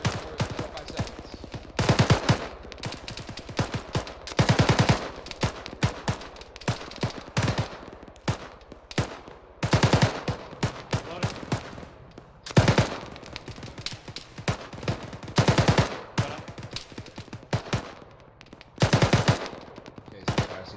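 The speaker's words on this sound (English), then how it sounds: "Just shoot out these shots." Repeated rifle gunfire during a military field training exercise, with bursts and single shots cracking out in loud clusters and fast volleys across the whole stretch, steady background noise between them.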